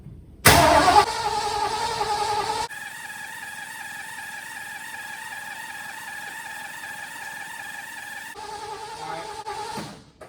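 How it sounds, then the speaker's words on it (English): Antique Ford Bronco with a 302 V8 cranking over after years of sitting: a loud starter burst, then a long steady whirring crank with a droning buzz, no talking. "my wife is gonna turn over the vehicle and we'll see if we can get some gas pumped up to the carb"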